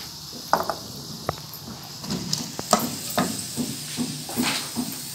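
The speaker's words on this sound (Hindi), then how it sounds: "बस अब हमने बाकी जो प्याज है इसमें हमने ये आलू डालकर फ्राई करने हैं।" Diced potatoes frying with onions in a pan for spicy aloo biryani: a steady low sizzle broken by scraping stirs and a few sharp utensil knocks, close by, with no talking.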